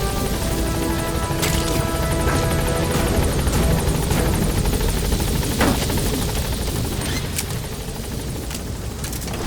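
Support helicopter in a military stealth video game arriving at a landing zone, its steady rotor roar loud and continuous throughout, with a few sharp clanks and impacts breaking through.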